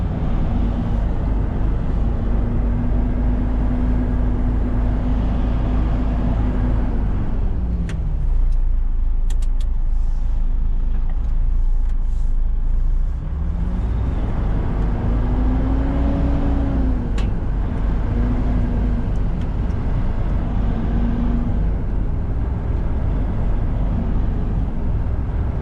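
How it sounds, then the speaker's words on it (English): A Class 1 (Cat C+E) articulated lorry creeps forward slowly and then reverses during coupling practice, its loud, steady diesel engine rumble rising and falling in pitch near the cab, with wind noise but no talking. "And then move forward slowly. like so, and then reverse at the side of the vehicle."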